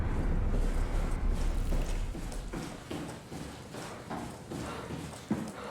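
Footsteps in the sci-fi horror game SOMA as the character walks into a small tunnel, a steady series of close, thudding steps with a hollow ring and no talk.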